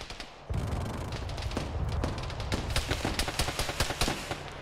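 Dense gunfire from a military game, with rapid overlapping shots and bursts sounding at middling distance. The firing rolls continuously through the clip and grows heavier after the opening half-second.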